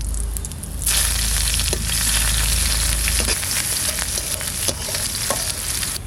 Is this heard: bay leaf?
yes